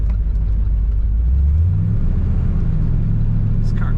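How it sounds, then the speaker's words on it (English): A 1969 Buick Riviera two-door hardtop accelerates with a steady low engine rumble that climbs in pitch, heard from inside the car over constant road noise. "Strong acceleration with this car."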